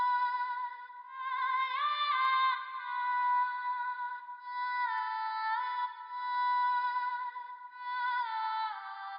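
Sampled vocal melody from the Vocalize 2 library played in Kontakt, clean sustained sung notes stepping through a dark, melodic phrase with no accompaniment.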